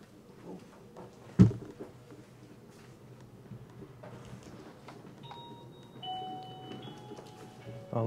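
A small bell on a post office counter is struck once, a single sharp ding standing out against quiet room murmur, with people talking nearby and a few faint electronic tones later.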